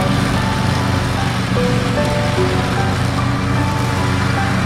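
A lawn mower drones steadily and loudly in a backyard in autumn, its engine hum constant throughout without any talk.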